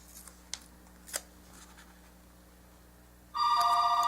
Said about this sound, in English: now I have no idea where I was after the phone rang